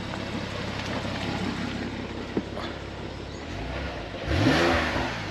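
Porsche 911 Targa 4S 997.2 with PDK and a naturally aspirated flat-six engine, idling steadily and then blipped into a sharp rev near the end, loud and close with no talking.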